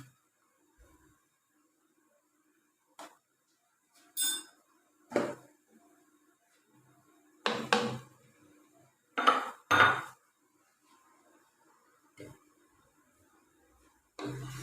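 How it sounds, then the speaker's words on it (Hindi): A cooking pot of kaddu gosht (pumpkin with meat) being covered, with several separate metallic clanks and clinks of a lid and utensils against the pot, close and fairly loud, spaced irregularly with quiet gaps and no talk. "अब इस पे ढक्कन देके तो बंद करके रख देंगे"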